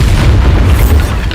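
A Bombarda blasting spell detonates in the Hogwarts Legacy video game, a loud, dense low boom that rumbles without letup through the whole brief moment, no voices over it.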